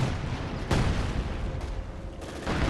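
Gunfire from a Company of Heroes 2 battle between Soviet and Wehrmacht forces, a dense, continuous fusillade with sharp bursts and booms standing out around a steady roar of distant shooting, no talk.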